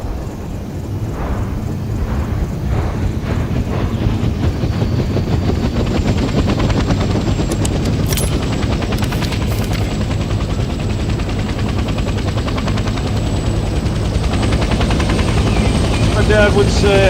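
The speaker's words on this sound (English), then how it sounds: "Let's start by getting in the pilot seat and turning the engine on" Helicopter engine from the video game Vietnam Hell Let Loose, a loud continuous rotor thump and turbine drone that runs unbroken and steady, with faint bursts of gunfire and clatter mixed in and no speech heard.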